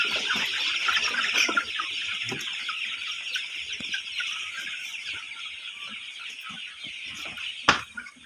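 Chickens cluck steadily over a constant high hiss of farmyard ambience, with occasional scuffles and a sharp knock near the end and no one speaking.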